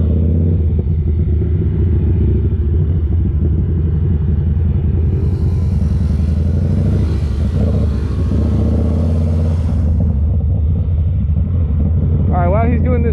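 Yamaha Bolt motorcycle engine held at high revs in a parking lot, rumbling loud and steady for about thirteen seconds with a brighter roar midway as the clutch is dumped and the rear breaks loose, with a rider's voice over it.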